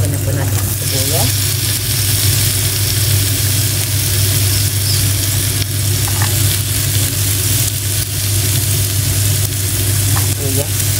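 Garlic and onion sautéing in a pan for a bitter melon dish, a loud steady close sizzle with a constant low hum beneath and faint stirring scrapes.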